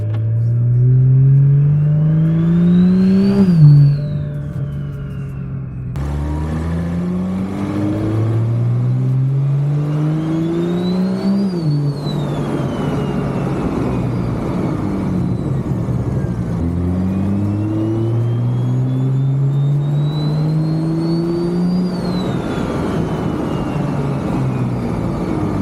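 A car engine revs and shifts repeatedly as it drives, rising pitch sweeps through the gears, steady and fairly loud throughout.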